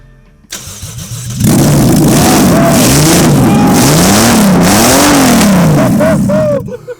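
A VAZ 2107 car fitted with a 200-horsepower JZ engine cranks and catches on its first start, then roars loudly at high revs with rising and falling pitch, close up, before cutting off near the end.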